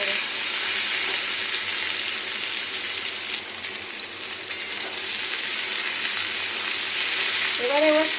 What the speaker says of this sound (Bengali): স্লো টেম্পারেচারে ভালো হয়ে আলুটা ভাজা যায়